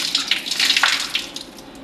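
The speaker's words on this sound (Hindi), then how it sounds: "और सीधे हाथ से फिर बाजू पर पानी डालें।" Water splashes and trickles as it is poured from the hand onto the forearm during wudu ablution, close and fairly loud in short uneven spills over about two seconds.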